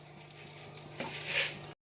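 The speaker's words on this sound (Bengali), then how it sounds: "ডালিয়াগুলো দিয়ে সামান্য একটু ভাজতে হবে" Broken wheat (dalia) fries in ghee in a pan, giving a soft sizzle with light scraping and clinks of stirring, fairly faint and without talk, then cutting off abruptly.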